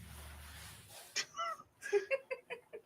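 A house cat in a bedroom gives a few short, close meows, after a low rumble at the start.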